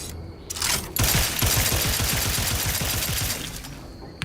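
Rapid automatic gunfire from a weapon being tried out in the video game Outer Worlds 2, a loud sustained burst of closely spaced shots lasting several seconds, with a brief pause near the start and no talk over it.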